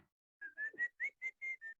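A single person whistles a short tune of about seven clear, evenly spaced notes, close and fairly quiet, with no talking.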